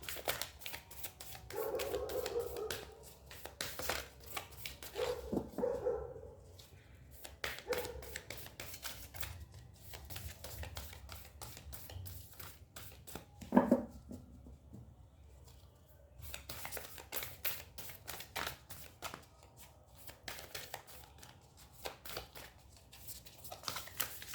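Oracle cards being shuffled by hand, soft crisp riffling and flicking in repeated quiet bursts with pauses between, close and faint, with no talking.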